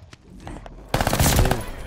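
Armaguerra 43 submachine gun firing in Call of Duty: Vanguard, a quiet lead-in of faint game sounds and then a loud, dense burst of rapid automatic fire in the second half.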